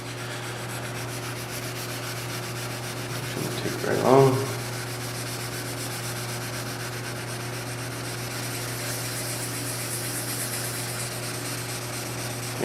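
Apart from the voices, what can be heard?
wet sanding car paint with 1500 grit paper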